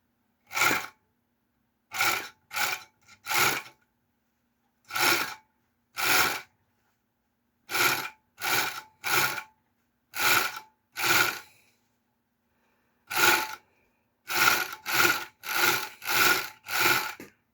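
A repaired GN1-1D overlock sewing machine stitches a scrap of denim in short separate bursts, each a brief close mechanical whir, repeated about twenty times with silent gaps and no talk.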